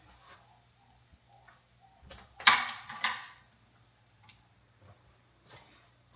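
Garlic drops into a hot cooking pan in a home kitchen, setting off a brief burst of sizzling and crackling that swells and fades within about a second over a faint steady background hum.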